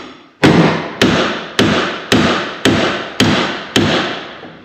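A hammer strikes a part on a 1968 Chevelle during disassembly: seven loud, evenly spaced metallic blows close by, each ringing and decaying before the next.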